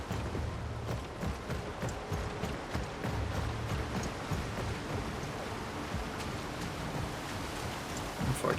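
A waterfall in the video game Smert and the Ruins of Nochte pours as a continuous broadband rush of water, steady and moderately loud, with faint pattering textures and no voices.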